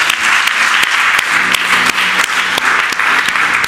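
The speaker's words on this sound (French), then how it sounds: "Est-ce qu'on peut acclamer le Seigneur pour ça?" A church congregation applauds together in a steady, dense wash of clapping that fills the room, loud and continuous, with a few sharper claps standing out and no talking.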